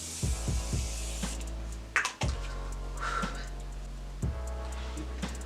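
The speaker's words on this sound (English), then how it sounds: "So we're going to spray our face so we can set her in place" A can of makeup setting spray is misted onto a face in a few short, soft hisses over a low steady hum, with faint ticks at the start, close by and quiet.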